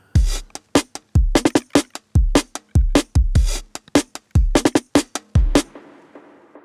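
Circuit-bent noise chopped into a percussive glitch loop, sidechained: a run of sharp, dense noise bursts with punchy low thumps, rapid and stuttering, loud and alone, trailing into a faint hiss at the end.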